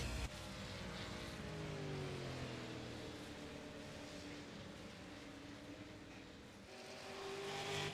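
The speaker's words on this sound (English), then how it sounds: "You're hearing on and off that gas right now." Super late model race car engine in the iRacing video game, droning steadily with rising and falling pitch as the throttle goes on and off around New Hampshire Speedway, loud and continuous with no talk.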